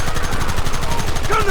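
Red Dead Redemption gunfire crackles in rapid, rhythmic bursts, loud and close, with a steady stream of shots filling the whole moment.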